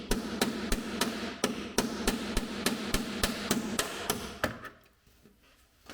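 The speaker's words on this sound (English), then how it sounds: "Instructions say to pound the core out of the top rivet before you try drilling it out." Hammer blows pound the core out of a tight rivet on a Ski-Doo Expedition front bumper, a steady series of about a dozen sharp metallic strikes, close and evenly spaced, stopping near the end.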